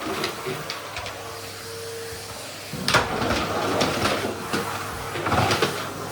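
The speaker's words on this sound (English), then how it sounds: "I'm just vacuuming in the dining room at the moment, on the rug" A vacuum cleaner hums steadily, with bursts of louder rushing and scraping as it is pushed back and forth across a rug in a dining room.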